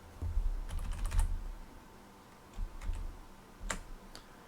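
Keys clatter on a Commodore 64 computer keyboard in short bursts of close, crisp taps, with brief pauses between groups of keystrokes.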